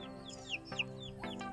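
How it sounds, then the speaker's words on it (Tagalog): Chickens kept by a farmhouse kitchen in the morning give a few soft clucks and short squawky calls, faint and close, with no talk over them. "Ito may mga manok kami dito."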